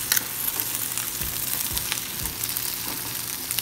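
Omelette egg sizzling and frying in a pan, a steady crackling hiss running throughout with occasional soft scrapes, close and fairly loud with no talk.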